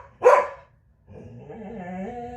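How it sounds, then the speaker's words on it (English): A single dog bark indoors in a house, one sharp close yelp followed by a brief whimpering whine, with no talking. "She's looking at the wall and barking."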